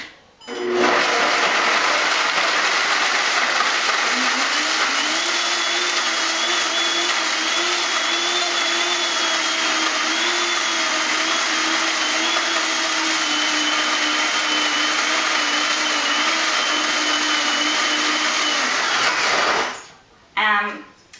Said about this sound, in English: and you could just use a regular blender too